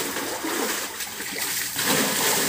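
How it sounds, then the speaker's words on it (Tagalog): Water splashes and sloshes as it is bailed out of a well being emptied for cleaning. A steady noisy wash of splashing fills the clip and grows slightly louder near the end. "nag-start na nga kaming maglimas ng balon dito sa amin"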